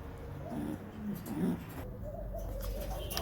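Maltese pigeons in a loft cage, a male and female pair, give soft low cooing calls in short bursts at moderate distance, with a steady background hum and faint speech nearby.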